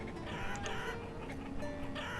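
Chickens cluck in the city-building game Banished, a few short fowl calls over a steady ambient game soundscape, with no talking.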